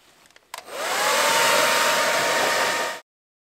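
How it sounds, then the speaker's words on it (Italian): A handheld hair dryer runs in one steady, loud, close whoosh for about two and a half seconds while heating bicolour rim decals on a motorcycle wheel, then cuts off abruptly into silence, preceded by a couple of small clicks. "Successivamente vi servirà il vostro phon per scaldare e andare a applicare il tutto proprio aderente al cerchio."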